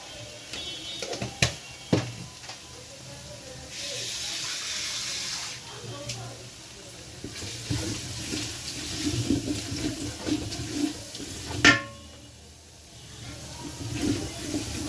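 Water is poured into a pan of frying spice masala made with turmeric powder and dry chili powder while cooking a winter beef and vegetable khichuri. The gush and sizzle is moderately loud, with clatter and faint talk around it.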